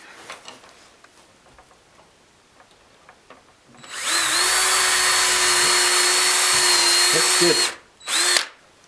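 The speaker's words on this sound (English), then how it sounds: "We're gonna go ahead and drill our preemptive holes here." Cordless power drill boring pilot holes for hinges on a goat pen, a loud close whine that holds steady for several seconds, stops, then gives one short burst, with a brief spoken word just before.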